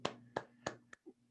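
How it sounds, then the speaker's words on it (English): A few sharp hand claps at an awards gala, four distinct claps in quick even rhythm followed by a softer thud, close and brief. "Let's all clap for Jack."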